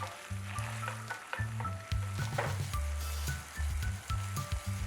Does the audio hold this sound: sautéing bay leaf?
yes